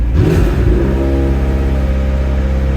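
A McLaren engine revs hard with the throttle pressed to the floor, a loud, close roar that climbs sharply at the start, then holds a steady high drone.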